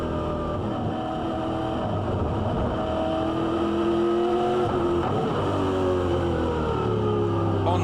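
On-board engine of a 2007 V8 Supercar racing in the rain at Oran Park, loud and close, droning steadily with rising and falling pitch as the throttle is fed in cautiously through corners.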